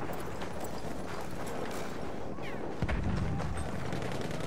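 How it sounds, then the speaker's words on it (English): Footsteps of a soldier in the video game Battlefield 1 thud irregularly within a dense, noisy battle mix of gunfire and rumble, with a heavier burst near the end. "Where are you? I can hear your footsteps."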